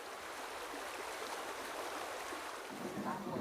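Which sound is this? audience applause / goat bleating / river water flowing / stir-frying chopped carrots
river water flowing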